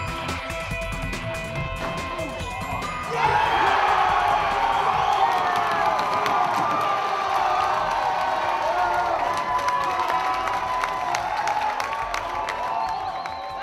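A crowd at a men's college squash match cheers and shouts, the noise swelling sharply a few seconds in and then holding as a loud, sustained roar with whoops and scattered clapping.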